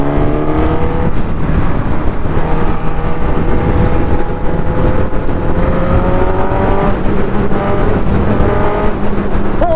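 A Suzuki Katana 1000cc motorcycle engine revs loud and close, its rising and falling throttle pulls repeating across the whole stretch with a sharp high-pitched scream.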